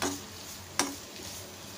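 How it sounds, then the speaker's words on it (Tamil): Onions and tomatoes sauté in a pan, giving a soft, steady sizzle with a single sharp scrape of a stirring spoon partway through, quiet and close. "இப்போ இது எல்லாத்தையும் நம்ம வந்து நல்லா வதக்கிக்கலாம்."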